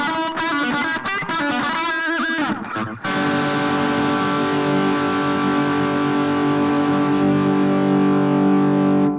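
Distorted electric guitar through a Blackstar Fly 3 amp's delay effect playing a quick phrase, then a sustained chord ringing out with repeating echoes layered on it.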